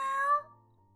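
A person's voice imitates a cat purr in one brief, close sound: a short tonal note that drops into a low, guttural rumble and trails off.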